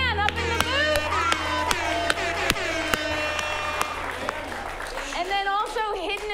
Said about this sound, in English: Give a round of applause to Dan up in the booth